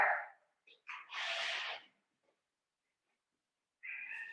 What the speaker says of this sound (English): I have my cat Coco here.